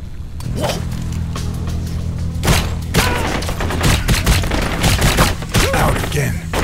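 Rapid bursts of gunfire from the shooter video game Blue Estate, dense volleys of loud shots with thumps and impacts over a low droning score, continuing almost without pause.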